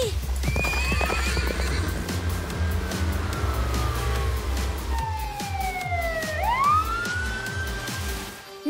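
Cartoon horse hooves clip-clop in a steady galloping rhythm throughout, loud and close, with a whinny and a siren-like sweeping tone layered over the hoofbeats in an animated LEGO Friends chase through the woods.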